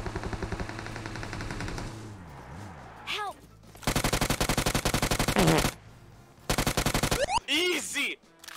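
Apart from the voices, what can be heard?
gunfire in the video game PUBG Mobile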